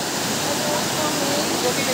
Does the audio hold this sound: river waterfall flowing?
yes